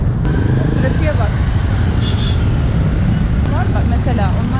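Busy street traffic in Nepal rumbles steadily close by, with engines of cars and motorbikes and a few sharp horn beeps, while people talk over the noise.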